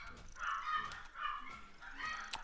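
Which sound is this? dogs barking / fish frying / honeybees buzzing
dogs barking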